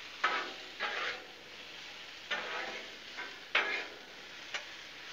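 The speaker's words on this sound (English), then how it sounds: "and just kind of let them fry" Cubed potatoes sizzle faintly on a hot Blackstone griddle, with a few scraping stirs at irregular intervals and no one speaking.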